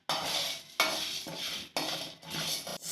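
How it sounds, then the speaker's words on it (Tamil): Spices are dry roasted in a pan with no oil for tamarind rice powder, giving repeated bursts of stirring and scraping against the pan with short pauses between them, close and fairly loud. "இப்போ நான் ஃபஸ்ட்டு சொன்ன மாதிரி இது மூணுத்தையும் போட்டு ஃப்ரை பண்ணிகிட்டு இருக்கேன்"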